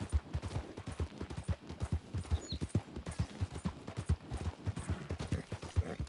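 Horse hooves clip-clopping in Red Dead Redemption 2, a steady brisk rhythm of close, distinct hoof strikes on the ground, continuous with no talk over them.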